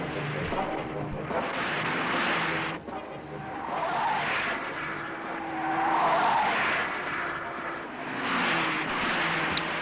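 Several 1965 Ford Falcon cars speed past during an extreme durability test, engines roaring and swelling then fading in repeated loud passes with a hint of tire noise, heard on an old film soundtrack.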